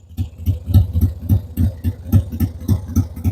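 A motorcycle engine idles and pulses in a steady, low, throbbing rhythm close by, with regular thumping beats and no talking.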